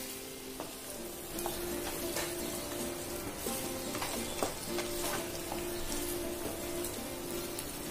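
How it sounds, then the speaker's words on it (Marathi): Raw banana, drumstick and potato pieces sizzle steadily in a hot pan while being stirred, with soft scraping and clicking from the stirring over a continuous frying hiss. "व्यवस्थित परतवून घ्यायचं आहे।"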